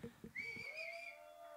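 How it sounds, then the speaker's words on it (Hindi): Loud whistling from an audience at a song launch event for a Bollywood film, a rising sustained whistle tone heard close and clear after a brief burst of crowd noise. "सीटियां वीटियां तो यहीं से बटोर लिया आपने।"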